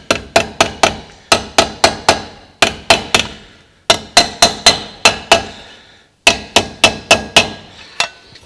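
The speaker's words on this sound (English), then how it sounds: "we are squashing the metal like that with that big tinny sound like that" Rapid bursts of metallic hammer blows hammerforming thin sheet metal for a car door rust repair patch, struck in quick groups of four or five with brief pauses between, bright and tinny.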